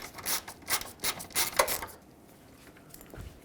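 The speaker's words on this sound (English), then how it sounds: "removing this Phillips head screw that screws the corner light into the headlight" A Phillips head screw is backed out of a 1996-2002 Toyota 4Runner corner light, giving close, scratchy rubbing and rasping for about two seconds, then near quiet.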